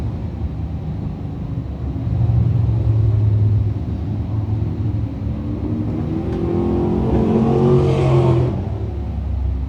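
Race cars at a speedway idle and rumble before a heat race, with engines rising in a low, loud drone and revving toward the end, with no voices.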